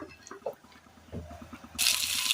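Liquid pours into a pan with a sudden, loud steady hiss near the end, like oil hitting heat while a meals curry is cooked; soft clinks and faint kitchen sounds come before it, with no one talking.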